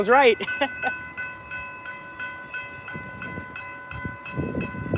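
A loud multi-tone horn from a northbound train at Port Salerno blares steadily over a low rumble of passing rail cars, after a brief voice at the start.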